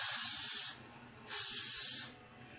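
Glue-blasting hold spray from an aerosol can is sprayed onto a lace closure wig in two steady hissing bursts, each nearly a second long, with a short pause between them.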